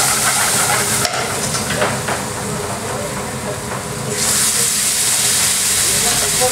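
Curry spices with curry powder, chili powder and plum tomatoes cooking in a pan for a takeaway-style rogan josh curry: a loud, continuous sizzle with stirring scrapes throughout.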